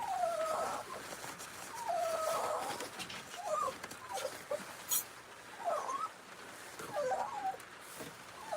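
Dogs whimpering and yelping in repeated short bursts near a bus being cleaned out, rising and falling cries over steady background noise with a few sharp knocks.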